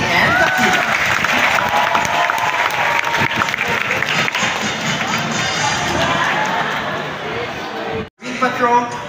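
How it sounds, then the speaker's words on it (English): An audience at a sea lion marine patrol show in Subic Bay bursts into loud, sustained applause and some cheering, dense clapping that fills the space before fading near the end. "how about a big round of applause for Chloe and Dakila?"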